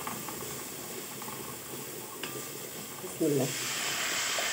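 Blended plain tomato juice is poured into a hot pan of fatteh sauce, setting off a sudden louder hiss and sizzle over a steady background simmer, with a brief voice at the start.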